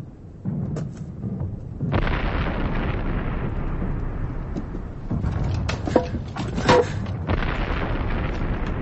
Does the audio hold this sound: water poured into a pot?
no